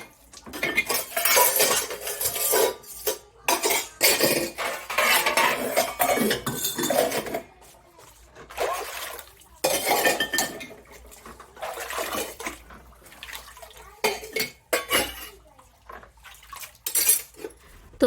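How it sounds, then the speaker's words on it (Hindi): Dishes and utensils washed by hand in a home kitchen, with steady clinks and clatters of cutlery and pots under running water. The clattering comes in close, busy bursts with short pauses and no talk. "हमने सोचा जो ये बर्तन है इनको भी धुल लेते हैं"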